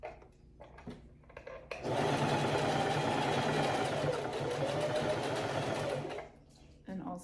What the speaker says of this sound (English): you're just going to sew along the edge, and you're going to go all the way around.